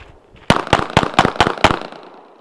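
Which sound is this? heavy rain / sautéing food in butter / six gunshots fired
six gunshots fired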